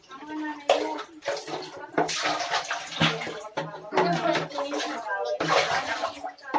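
Hand-washed laundry rinsed in a basin of water gives intermittent sloshing and splashing, heard under close, near-continuous talk in Filipino.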